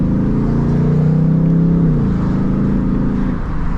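A 2024 Mustang GT convertible engine revs loudly and steadily up close, a deep throaty roar that rises, holds, then eases off near the end.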